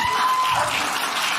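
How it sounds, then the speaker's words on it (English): A stand-up comedy audience clapping in a theatre, a brief burst of many hands applauding that fades slightly, with faint crowd noise beneath. "Can you clap?"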